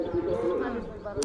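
Pigeons kept at a village house coo in a low, soft, repeated murmur, close by and steady throughout the short moment, with a brief brighter rustle near the end.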